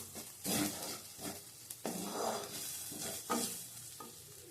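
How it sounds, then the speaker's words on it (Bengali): Dal tipped into a hot pan for dal puri and stirred: a steady sizzle with repeated scraping strokes of the spoon against the pan, close up, and no voices. "এবার ডালটা দিয়ে দেবো এটা কষানো হয়ে গেছে"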